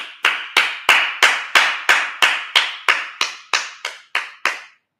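About thirteen loud, evenly spaced hand claps ring out close by at a Sabbath service, each crisp with a short decay, keeping a steady beat that fades slightly toward the end.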